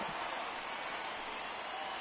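A stadium crowd cheers in the baseball video game MLB '19 at Red Sox vs Yankees, making a brief, dense wash of roaring noise and applause.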